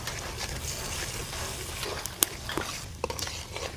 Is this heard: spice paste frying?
yes